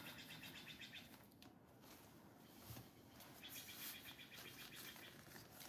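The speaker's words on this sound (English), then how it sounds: "You hear the birds?" Faint birds chirp and tweet outdoors, quiet and scattered against a steady background hiss, with no talking.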